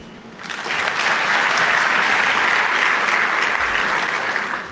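Audience applause at an investment conference at Global Expo Botswana, a dense steady clapping that swells in after a moment and holds loud and full throughout.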